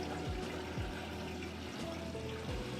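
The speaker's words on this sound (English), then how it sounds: "drain's running now, draining that water out nice and fast" A washing machine drain pump pushes water out through a long drain hose, giving a steady gushing rush with a low pump hum and a few periodic gurgling surges.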